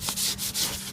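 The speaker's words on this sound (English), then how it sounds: "So I take some fine grit sandpaper." Fine grit sandpaper rubs across a wooden cornhole board in several rhythmic back-and-forth strokes. Each stroke gives a close, airy scratch with short pauses between.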